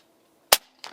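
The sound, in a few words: Air Arms S510XS Stealth Carbine air rifle firing .177 JSB pellet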